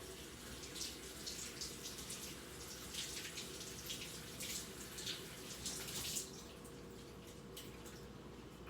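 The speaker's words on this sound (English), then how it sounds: "Now I'm going to rinse them off." Tap water runs steadily over fresh lobster meat being rinsed, a continuous close splashing stream with brief bursts of spatter and no talking.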